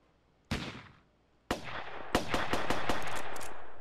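Gunshots ring out in an indie video game: a single sharp shot, then a second blast about a second later, followed by a quick, loud burst of closely spaced rounds that leaves a lingering echo.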